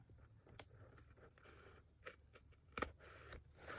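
Scissors cut along the edge of paper on a hinged page, a quiet series of crisp snips and rustling paper scrapes, with one sharper snip near the end.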